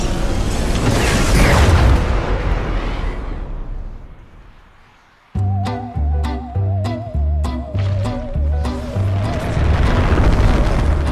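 A rocket explosion on a game loading screen roars as a loud, broad blast that fades out, then rhythmic music with pulsing bass and bright hits starts up.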